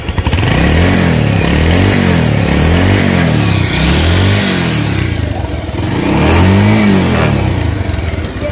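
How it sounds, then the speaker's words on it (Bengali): A red Bajaj Pulsar motorcycle with about 14,858 km on it idles loudly and close by, its engine revving repeatedly in rhythmic rising and falling surges, with a final higher rev near the end. "এটার ইঞ্জিন সাউন্ড একদম সুপার স্মুথ,"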